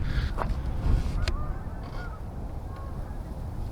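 A small flock of waterfowl geese flies in, giving a few scattered honks over a low, gusty rumble of wind from an outdoor hunting setting.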